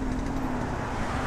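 Steady broadband rumble of a car close behind on a road, continuous engine and tyre noise with no pauses.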